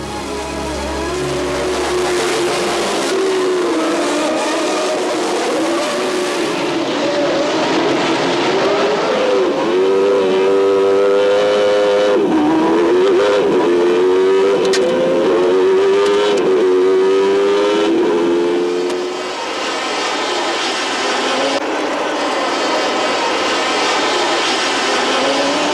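1990s Formula 1 hybrid-era race cars screaming past in a pack at the start of a Grand Prix, loud sustained high-pitched engine whine with rising and falling pitch as cars accelerate, continuous and close.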